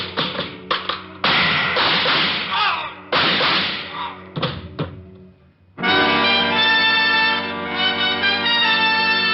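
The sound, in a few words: shoe dropped, radio drama sound effect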